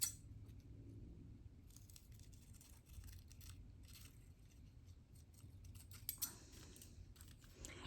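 Scissors snip away excess paper in a quiet craft studio, giving faint intermittent cuts and rustles with a couple of sharper clicks near the end.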